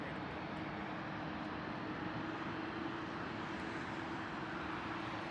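Steady broadband roar of a Japan Airlines airliner taking off from Heathrow bound for Haneda, Tokyo, distant and even throughout with a faint droning hum, no talk.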